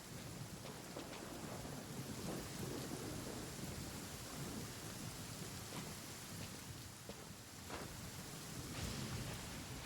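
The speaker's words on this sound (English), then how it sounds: "So much lightning." Thunderstorm in Genshin Impact on the way to Inazuma, with dense steady rain and rolling thunder cracks forming a loud, continuous wash of noise that has no talk.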